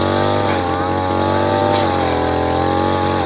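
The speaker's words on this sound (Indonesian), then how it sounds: "ayah lagi potong rumput" Petrol grass cutter running close and loud while cutting grass, a steady buzzing engine drone with slight pitch dips as it bites into the growth, filling the whole stretch without pause.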